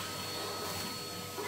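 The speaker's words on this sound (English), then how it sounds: "I'm just going to hoover this" A vacuum cleaner runs steadily while hoovering out a Mi-Fire Loughrigg 4.9 kW wood-burning stove, a continuous close whooshing roar with no talk.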